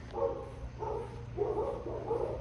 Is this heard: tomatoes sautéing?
no